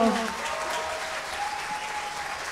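An audience at a carol concert applauds the drummer, a dense sustained clapping that holds steady throughout, with a voice speaking over it at the start.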